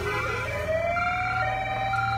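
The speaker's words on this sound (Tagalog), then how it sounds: "Ayan na bumbero, ayan na bumbero." A fire truck siren wails steadily during a house fire in Kawit, Cavite, a rising and sustained tone over constant low rumble, fairly loud and close with no talk.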